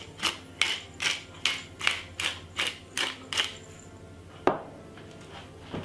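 Cracked pepper ground over Jamaican rice and peas: eight quick rhythmic rasping grinds in a row, close and crisp, then a pause and a single sharper grind.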